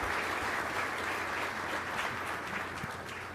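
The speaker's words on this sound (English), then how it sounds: "please join me in a round of applause for the outstanding comments by our panel" Audience at a land forces conference panel gives a sustained round of applause, steady and moderately loud, gradually tapering toward the end with no talk.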